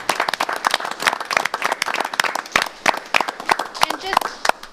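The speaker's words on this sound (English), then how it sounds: "So a round of applause for them," An audience at a Pontiac city council meeting claps for a volunteer honoree, producing a brisk, uneven patter of individual hand claps from a modest crowd. The claps are close and sharp, with faint voices mixed in.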